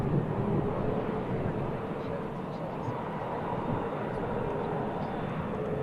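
At Manchester Airport, a fixed-wing airliner's engines give off a steady, broad roar that holds evenly throughout at moderate distance.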